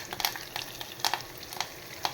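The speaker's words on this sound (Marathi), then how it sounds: "छान अशी फोडणी तडतडली." Spice tempering crackling in hot oil with cumin, fennel seeds and curry leaves, a close continuous sizzle punctuated by sharp pops and crackles, no voices.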